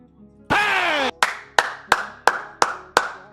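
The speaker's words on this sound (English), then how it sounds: "Hey, round of applause, chat, for Anders." A brief rising tone is followed by seven sharp, evenly spaced claps, loud and close, each snapping out and fading quickly in a regular rhythm.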